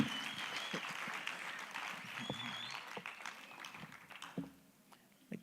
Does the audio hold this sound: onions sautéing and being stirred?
no